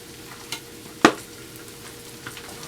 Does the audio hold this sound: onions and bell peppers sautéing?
yes